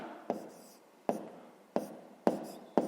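Pen strokes on paper during a fifth-grade maths exercise, five short sharp scratches spaced roughly evenly apart, close and quiet with nothing else heard.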